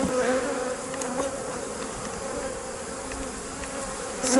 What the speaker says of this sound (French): Nous voyons effectivement que la ruche est quand même populeuse.